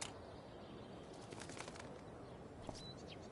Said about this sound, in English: That bird is really pretty.